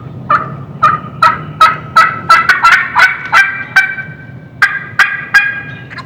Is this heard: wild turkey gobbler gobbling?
yes